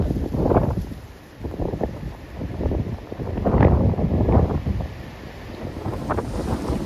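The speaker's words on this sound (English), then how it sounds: "Wind just keeps getting stronger and stronger." Strong wind buffets a microphone on an open mountain hilltop lookout, with loud, uneven gusts rumbling and roaring in surges throughout, no voices present.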